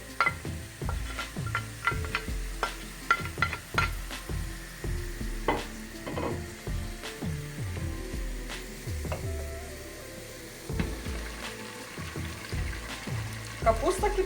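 Carrot and onion sautéing together in a pan for cabbage fritters, heard as a string of close clattering stir strokes and scrapes over a soft sizzle, fairly steady throughout.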